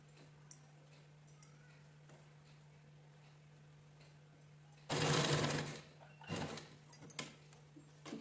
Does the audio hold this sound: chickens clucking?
no